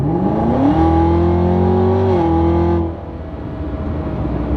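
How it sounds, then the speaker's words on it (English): A 2022 Chevrolet Camaro ZL1 with 650 horsepower and a stock exhaust revs loudly up close, its engine note climbing and holding. It then drops off throttle into a rougher, crackling burble as it settles. "the backfire, are you hearing the crackles? Stock everything, stock exhaust and all, but it sounds so mean"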